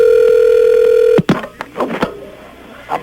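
A steady, loud telephone dial tone hums alone, then cuts off into a scatter of sharp handset clicks and short dialing blips.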